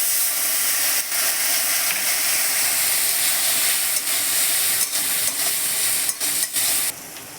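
Paneer and vegetable patty mixture sizzles steadily in a hot pan after a splash of water, a dense continuous hiss of frying and steam with a few brief dips near the end.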